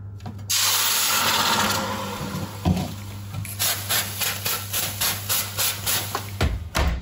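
Water is spritzed from a handheld plant mister into a hot oven just before baking bread, a run of short, rhythmic hissing sprays over a steady oven fan hum, fairly close and with no talking.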